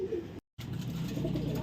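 Pigeons coo softly in a racing-pigeon loft, a low murmuring flock heard close by, with a brief dropout in the middle.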